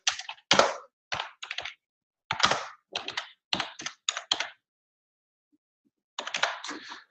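Bursts of clicky typing on a computer keyboard, short clusters of keystrokes with brief gaps and a longer pause before a final flurry, close and dry.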